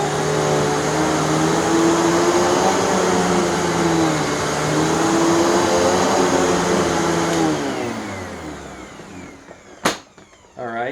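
A Simplicity vacuum cleaner runs in a sand test, a loud, steady motor whine close by with a slightly wavering pitch, then winding down toward the end with a couple of knocks as it stops.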